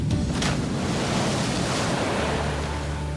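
A cartoon tugboat throws up a big water splash, heard as a loud rushing surge of water and wind-like noise that stays steady throughout before settling into a lower churning wash.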